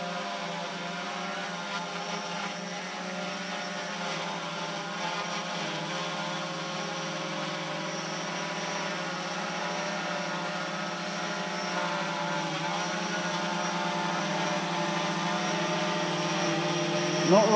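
A DJI Phantom 4 Pro quadcopter with a 360fly camera attached hovers and drifts nearby, its rotors making a steady buzzing whine with layered tones that swell slightly near the end.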